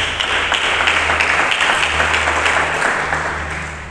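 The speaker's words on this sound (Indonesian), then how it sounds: "Berikan tepuk tangan bagi Yesus" A congregation claps together in church during a sermon, a moderate, continuous patter of hands over a steady low hum in the room.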